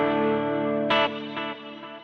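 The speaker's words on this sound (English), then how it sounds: "So you can hear the delay and you can hear the reverb." An electric guitar plays through compressor, delay and reverb pedals on a Boss ES8 switcher pedalboard into a wet amp, sounding as a sustained chord followed by a sharp struck note whose repeats echo and fade into a reverberant tail.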